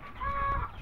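Aseel chicken of the parrot-beak long-tail type with jalak colouring, kept in a coop, giving a single short nasal cluck, close and fairly clear over faint background hum.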